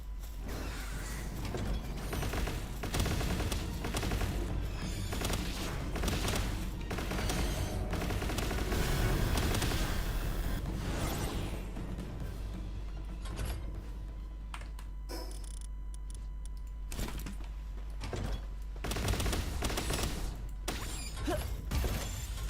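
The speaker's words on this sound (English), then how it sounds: "That beam attack? Damn! I did not think that it would use a beam attack and just crush the opponent." A laser beam attack in Palworld roars as a long, sustained barrage of harsh crackling and rapid mechanical bursts, loud and close, pulsing in intensity throughout with no voices.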